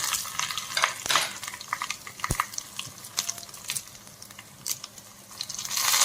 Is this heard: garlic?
yes